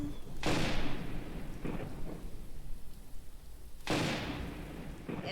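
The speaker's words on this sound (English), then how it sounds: "it's raining and lightning." Rain falls steadily in the video game Songbird Symphony, broken by sharp thunder cracks, one near the start and another about three seconds later, each fading into a low rumble.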